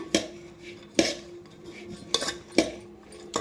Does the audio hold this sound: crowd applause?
no